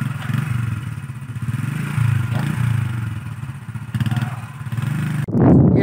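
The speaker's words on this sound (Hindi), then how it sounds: "ऊपर डैम पे बाइक हमें चढ़ा के ले जानी है" Motorcycle ridden up onto a dam at a camping spot, its engine droning loudly and steadily with rises as it climbs, then a clattering, scraping burst at the end as it works over rough ground.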